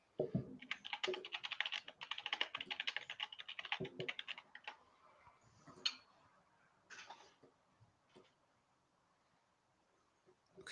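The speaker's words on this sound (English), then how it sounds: "Okay, I hear typing." Fast, clicky typing on a computer keyboard comes in a dense burst for about four seconds, then thins to a few scattered keystrokes and clicks over near silence.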